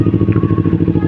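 Kawasaki Ninja 250 motorcycle cruising slowly and gently, its engine giving a steady, close, pulsing low rumble with a faint whine above, no voices.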